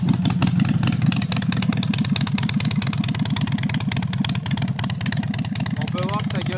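A Harley-Davidson Forty-Eight with short exhaust pipes idles loudly nearby in a deep, lumpy, steady rumble while someone talks over it throughout.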